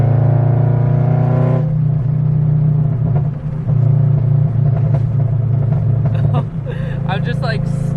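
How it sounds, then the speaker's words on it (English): A 2022 Subaru BRZ fitted with a UEL header and tune idles with a steady exhaust drone and low burbling, and voices talk over it near the end. "I don't know if there's like big pops or anything, but it has those little burbles"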